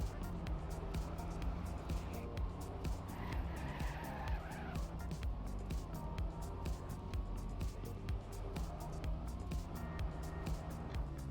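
Race cars roar continuously through an endurance race in a racing video game, steady engine drone layered with tire squeal and skidding, dense and unbroken throughout.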